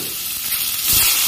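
Onions sizzling and frying in hot oil for a mutton curry, a steady bright hiss that swells louder near the end, with no voices.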